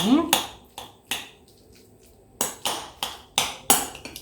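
A utensil mixes mushroom stuffing with egg yolks in a bowl for stuffed eggs, giving sharp, close clinks and taps against the bowl, about a dozen in irregular clusters with short quiet pauses between.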